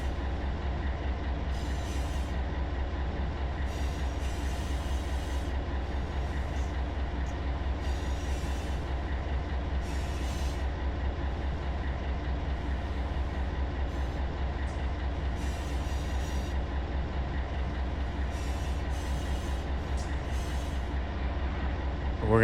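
A freight container train hauling uphill in Run 8 Train Simulator, a deep steady locomotive rumble with a constant drone and repeated bursts of wheel and wagon noise from the cars.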